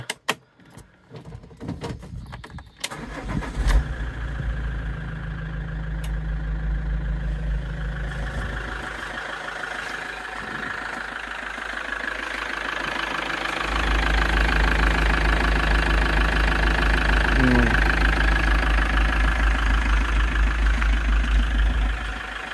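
The engine of a used Moncayo profile camper van cranks after some clicks and knocks, then starts and settles into a steady, loud idle with a deep low hum that swells partway through.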